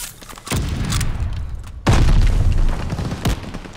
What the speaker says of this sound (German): Hier hast du eine Bombe.